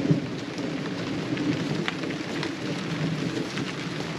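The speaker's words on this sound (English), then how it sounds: "Oh, the rain feels nice and cold." Steady rain pours through the Florida Everglades during a thunderstorm, a dense close hiss with a faint low rumble underneath, and no voices.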